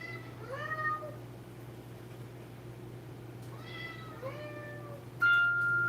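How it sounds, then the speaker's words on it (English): A cat named Fred meows several times during feeding, with distinct rising calls spaced across the moment against a low steady hum, ending in a brief sharp tone. "What is he saying when he meows at me?"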